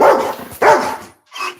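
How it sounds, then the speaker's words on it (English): Dog barking outdoors in a mountain town, two loud, close barks followed by a shorter yip after a brief pause, no speech. "I know that's another dog."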